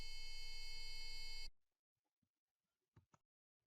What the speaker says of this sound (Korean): 다음은 부저로 라음을 만들어내는 것을